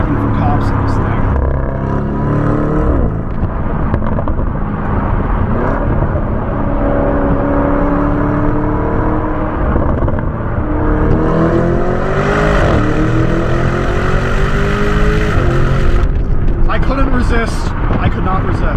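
Lamborghini Urus launching hard in first gear from 3,000 to 4,000 RPM, its engine roaring loudly and climbing in pitch through the launch with rising harmonic sweeps, a voice talking over the steady heavy engine noise.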